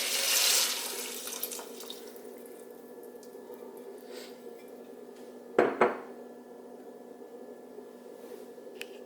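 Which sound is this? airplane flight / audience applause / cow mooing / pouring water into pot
pouring water into pot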